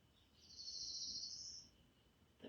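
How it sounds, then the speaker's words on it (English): Outdoors, a single high, thin bird note holds for about a second, faint and somewhat distant against quiet ambient background, with no voices. "The birds are so lovely here today."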